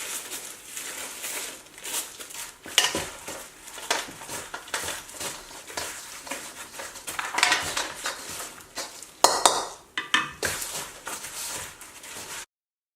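Cooked rice is mixed with seasoning by hand in a bowl for chive gimbap, giving a steady run of soft clattering, rustling and crinkling close by, with a few sharper knocks and no talking.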